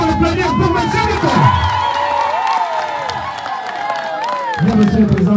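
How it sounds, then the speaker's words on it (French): A political rally crowd in Minvoul cheers, whoops and applauds loudly for a candidate, with a musical or chanted tone weaving over the roar and voices breaking through the din. "est-ce qu'on peut encore applaudir pour M."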